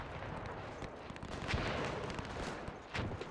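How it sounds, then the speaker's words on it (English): Swedish artillery firing in the WW1 strategy video game Between Empires, a faint, dense rumble of distant gunfire and booming shots rolling steadily through the battle. "The Swedish artillery fired."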